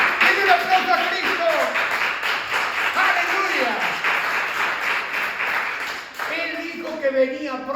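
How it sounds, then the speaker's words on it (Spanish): Congregation applauding during a Spanish-language church sermon, a sustained wash of many hands clapping, with a voice calling out over it and the applause thinning toward the end. "Denle un aplauso a Jesucristo."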